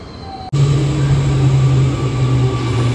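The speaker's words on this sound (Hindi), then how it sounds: "ये है जी अपनी मेट्रो।" A sudden onset of loud, steady rumbling and humming as an Amsterdam metro train runs, a continuous low drone with faint high whine throughout.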